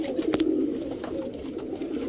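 Pakistani teddy pigeons coo in a steady, low, close-up murmur that runs throughout, with a brief sharp click near the start.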